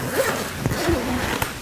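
A zip on the extendable hood of a Cosatto Supa Dupa Double pushchair is pulled along in one continuous, close, loud rasp with small catches and ticks.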